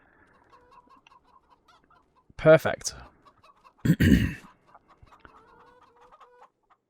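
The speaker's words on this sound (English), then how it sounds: "And then to get 6-month-old chickens, got 250." Chickens cluck in two short bursts in Farming Simulator 25, with a moderately loud squawking flurry followed by a second cackle against faint ambient background, and a voice speaks briefly.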